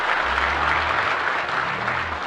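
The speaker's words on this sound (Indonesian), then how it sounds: "Tepuk tangan buat jemaat di tempat ini." A church congregation gives a round of applause, dense continuous clapping that stays even and fairly loud throughout, with no talking over it.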